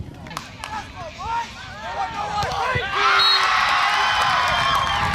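A home island crowd cheers and whoops for Team NMI during the final set of a volleyball match, a loud sustained roar that swells toward the end, with voices and babble mixed through.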